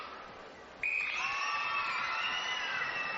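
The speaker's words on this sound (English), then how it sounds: "A gentle cheer goes up." A gentle cheer rises from the crowd at a 1997 netball semi-final in a packed indoor hall, swelling suddenly from a murmuring hush into a sustained, moderately loud cheer with whoops and a whistle-like tone.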